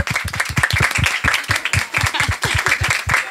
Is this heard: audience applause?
yes